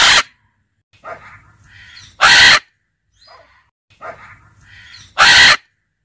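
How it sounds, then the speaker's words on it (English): A parrot at a zoo gives two loud, harsh squawks about three seconds apart, each set up by softer chattering and scratchy murmurs, with near silence between. "Parrot."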